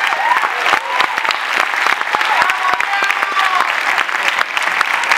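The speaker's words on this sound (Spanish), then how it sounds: "Diego Flores, un aplauso fuerte para él" Loud, close audience applause at a theatre premiere of La Jaula de las Locas, honouring the production manager, with sharp individual claps and cheering voices rising over a continuous wall of clapping.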